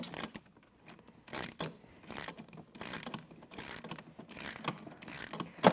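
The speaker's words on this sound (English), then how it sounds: "then I'm going to tighten the nylock bolt" A ratchet tightening a nylock bolt nut on a wooden post bracket, with repeated bursts of clicking as the handle swings back and forth, close and steady.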